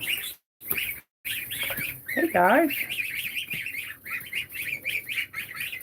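Two-week-old geese goslings fuss on a mountain farm, giving high, wavering peeps and chirps in quick bursts close by, while a person briefly greets someone over them.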